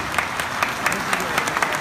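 Audience applause at the 2018 PSL party convention: a steady crackle of many hands clapping in a large crowd, with louder bursts swelling through, continuing on its own without speech.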